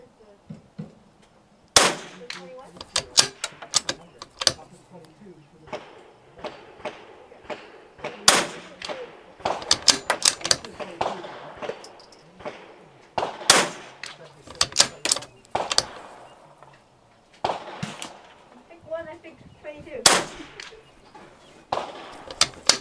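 A Vudoo Three 60 rifle fired at a shooting range: several sharp, loud cracks spaced seconds apart, mixed with metallic bolt clicks and handling noise while a person talks between shots.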